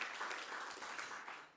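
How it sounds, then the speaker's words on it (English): Audience applause at a gathering, a brief, soft and fairly distant patter of many hands clapping, fading slightly at the end with no talk over it. "Huge round of applause."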